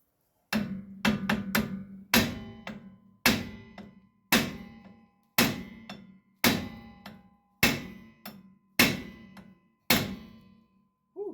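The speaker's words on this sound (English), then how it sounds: "I'm using a brass hammer." A brass hammer strikes metal about a dozen times at a steady pace, each sharp clang ringing briefly before the next blow.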